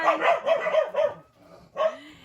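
A loud dog barks indoors in a quick run of four or five close barks, a short pause, then one more bark ending in a whimpering whine.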